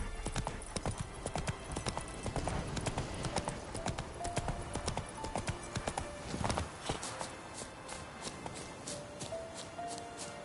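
Roach, the horse in The Witcher 3 on PS5, gallops with loud, rapid clip-clopping hooves in a steady rhythm, which thins out toward the end.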